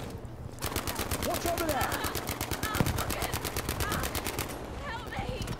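Sustained automatic gunfire in Battlefield V, a rapid machine-gun stream of evenly spaced shots rattling for several seconds at close range, while players talk over it.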